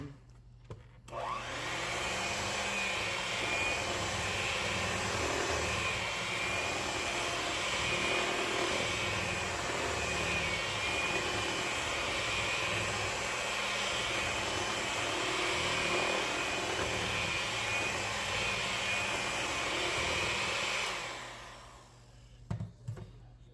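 An electric mixer whirs continuously for about twenty seconds, blending sweet potato pone batter in a bowl with a steady, close drone before switching off.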